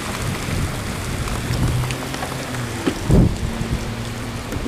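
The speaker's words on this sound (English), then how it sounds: "I've never ridden in this much rain before." Heavy rain pours during a thunderstorm while riding a Honda CBR 1000RR motorcycle, a dense continuous hiss with a low rumble of thunder swelling near the middle, loud and unbroken with no talking.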